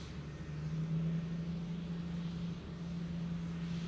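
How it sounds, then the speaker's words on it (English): A C-130 turboprop military transport runs past at the Farnborough International Airshow with its rear ramp down, a steady droning engine hum with a strong low tone holding throughout, fairly distant and unbroken. "Rear ramp is down at the C-130, so turning in from our right to run past."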